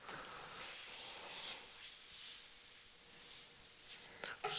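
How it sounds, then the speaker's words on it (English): An airbrush being back-flushed while painting a black and grey skull on a saddlebag gives a steady close hiss of air and spray that runs for several seconds with slight surges, then breaks into short sputters at the end. "Back flush the airbrush."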